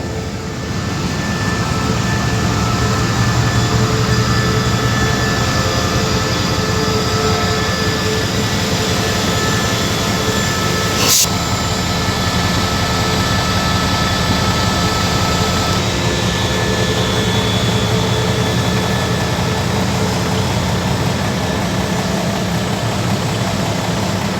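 Loud, continuous rumble of an express train's engine droning steadily as it departs Ban Phachi Junction station in Thailand, with one sharp click partway through and no voices.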